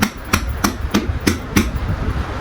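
Sharp repeated taps on folded cloth in a tailoring lesson, striking to transfer a marked point through the fabric; five or six crisp knocks at roughly regular intervals, close and loud, with no talk.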